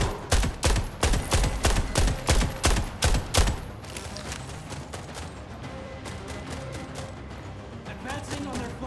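Gunfire in The Expanse: Osiris Reborn, a rapid burst of loud, evenly spaced shots for several seconds, then a lower, continuous rumble of combat noise.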